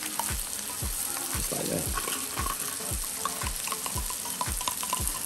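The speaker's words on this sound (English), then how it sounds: "Then I'm gonna add 6 ounces of tomato paste." Tomato paste, six ounces of it, is stirred into a sizzling pan of chili for chili dogs, giving a steady frying hiss with repeated low scraping thumps from the spoon in an even rhythm while a voice speaks briefly.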